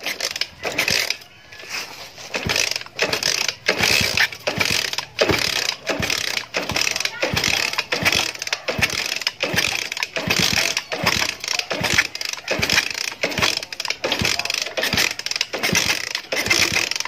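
A motorcycle that will not start is kicked over again and again, a steady run of loud, close mechanical clunks and ratcheting strokes without the engine ever catching, with no talking.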